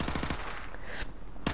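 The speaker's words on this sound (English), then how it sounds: "Now use the MP5 for a change" An MP5 submachine gun fired in Call of Duty Modern Warfare Remastered, with quick rapid-fire bursts at the start and another short burst at the end, close and punchy, with no voices.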